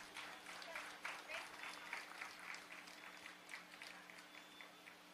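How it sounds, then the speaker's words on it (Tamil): Audience applause, a dense steady patter of many hands clapping at moderate volume, with a voice talking over it. "ஒரு நல்ல பலத்தை கைத்தட்டு கொடுங்க"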